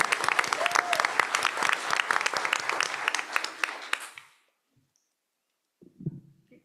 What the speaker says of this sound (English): Let's give this first year teacher a round of applause for her first day in the classroom.